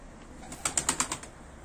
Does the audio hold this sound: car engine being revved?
no